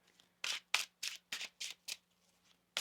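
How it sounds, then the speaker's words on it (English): Tarot cards riffle-shuffled by hand in about six quick, crisp bursts with short pauses between them, close and alone with no talking. "One more shuffle."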